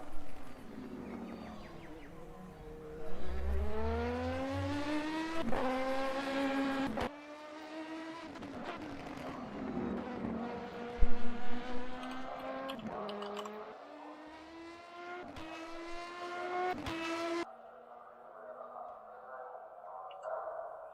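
A race car drives at the Nürburgring during 12-hour race practice, its engine note climbing steeply through the gears, then dropping as it downshifts, loud and close with brief pauses between runs, under faint commentary.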